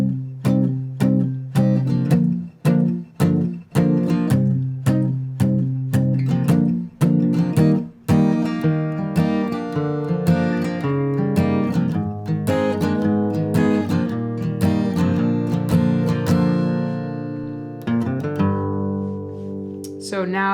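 Acoustic guitar strumming the second-verse chords of a song, starting with rhythmic, punchy chord hits and settling into ringing, sustained strums, played solo and close.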